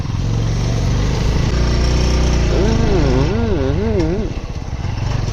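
A motorbike engine drones steadily while riding toward Helmet Dada near Bhaktapur, a loud continuous buzz close to the mic, with a voice rising and falling over it.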